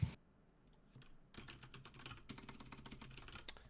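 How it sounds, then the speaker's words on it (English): Rapid, uneven typing on a computer keyboard during a staff meeting, clicks clustering into dense bursts after a quieter opening, close and fairly soft with no talk over it. "I'm the minutes taker too, so I'm typing furiously"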